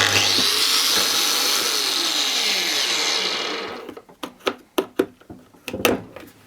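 A Milwaukee AGV angle grinder with soft start whines at full speed after a restart, then spins down and stops, followed by several sharp handling knocks and clicks.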